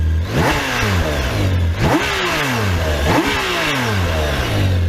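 A deep 2022 BMW K1600GT motorcycle engine revs hard three times in a row, each surge climbing in pitch and then dropping back, loud and close.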